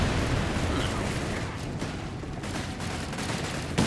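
Battle din in Company of Heroes 3, a dense, continuous rumble of gunfire and explosions across a wartime skirmish, heavy and low throughout with no distinct individual shots standing out, and faint talking beneath it.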